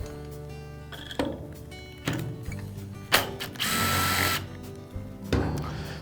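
A power tool works on the screw holding a string trimmer's clutch drum, giving several short whirring bursts with ratcheting clicks between them, close and separated by pauses.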